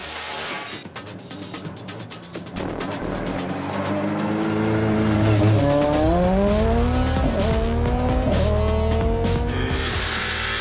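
A rally car's engine roars and climbs through the revs at speed at Rally New Zealand 2012, with tires squealing and skidding as it drives hard nearby.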